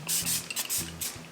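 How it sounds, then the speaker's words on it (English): Revolution Super Hold misting setting spray is sprayed at close range for makeup, giving several quick hissing bursts in a row with no talk. "Now I'm going in with the Super Hold Misting Spray from Revolution."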